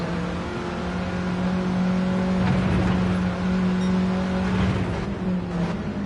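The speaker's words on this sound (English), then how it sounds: "race one leader, Homesick Alien, as he takes us around Brands Hatch Indy in his Golf Mark 1 GTI" A Volkswagen Golf Mk1 GTI races around the Brands Hatch Indy circuit in a racing video game. Its engine holds a steady, loud, buzzing drone at high revs, with small shifts in pitch as it corners.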